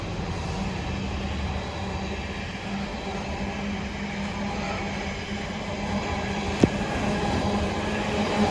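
A train passing through Heald Green station makes a steady, loud, continuous rumble and rattle that stays even throughout, with one sharp click near the end.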